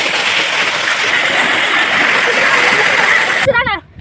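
Kayilai (Thazhampoo) waterfall pours in a loud, steady broadband rush of falling water that holds for most of the stretch, then drops away near the end as a voice speaks close by.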